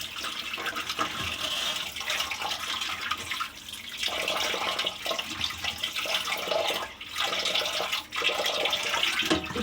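Steady running water splashes loudly and continuously, with brief dips and surges as fish is rinsed under the stream.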